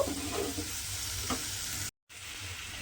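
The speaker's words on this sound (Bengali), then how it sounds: "এইভাবে সয়াবিনের সঙ্গেই মশলাটা দিয়ে খুব ভালোভাবে কষিয়ে নেব" Spice masala being sautéed with soybean chunks in a pan, a close continuous sizzle with stirring scrapes, cut by a short gap of silence.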